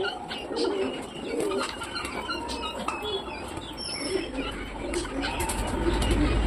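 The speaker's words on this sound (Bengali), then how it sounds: "বন্ধুরা এটা কোন পায়রা" Pigeons coo softly amid a busy backdrop of chirps and rustling, the calls close but not loud, with no talking.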